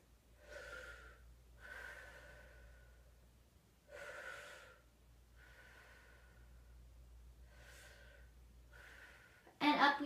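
Slow deep breaths during a mom and baby yoga squat, six soft inhale-exhale pulls spaced evenly over a low room hum, close and fairly quiet, ending with a brief louder rustle.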